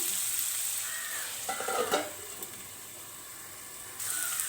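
Soya chunks Manchurian with curry leaves cooking in a pan, giving a steady soft sizzle with a brief stir or clatter near the middle, moderately quiet and close, with no talking.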